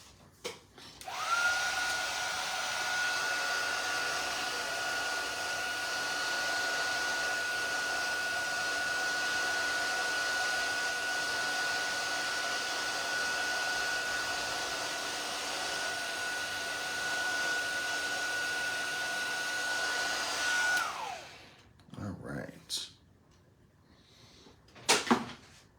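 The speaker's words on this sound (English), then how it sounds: "And we'll heat emboss." Heat embossing tool blowing hot air over a crafting project, a steady, quiet whirring hiss with a faint high tone that runs for about twenty seconds, then clicks off with a few handling knocks.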